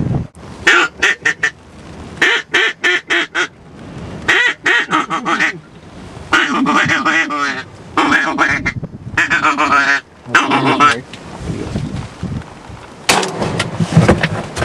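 Ducks at Comox Field give loud, close quacks in quick repeated bursts, with a few longer honking calls mixed in near the end.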